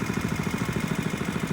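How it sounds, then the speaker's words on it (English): A small 3-inch Predator Harbor Freight water pump engine idles at a farm pond, its rapid, even chugging pulses loud and close while it sucks air. "This little 3-inch Predator Harbor Freight pump"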